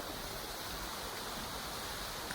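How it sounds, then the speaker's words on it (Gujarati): Irrigation water flows through a groundnut field in a continuous, even rushing hiss with no breaks, heard alone at a moderate distance. "મગફળીમાં પાણી હાલે છે, પવન ઝીકું દે છે"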